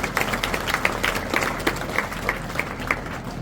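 An audience at a social gathering claps to welcome a guest, a dense, even round of many hands clapping at moderate loudness.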